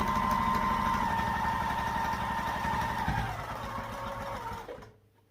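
A sewing machine stitches a quarter-inch bag seam in one steady, fast run that slows, softens and stops after about five seconds.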